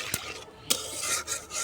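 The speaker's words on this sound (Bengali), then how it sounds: "এখন এই মশলাটা আমি সুন্দর করে কষাই নেব।" Spice paste for a pangas fish curry being stirred and fried in a pan, with a ladle scraping and clinking against the metal over a steady sizzle, close and fairly loud, no voices.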